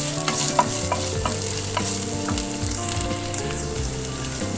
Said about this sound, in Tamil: ஃபர்ஸ்ட் வந்து ஜிஞ்சரையும் கார்லிக்கும் போட்டுக்கலாம்.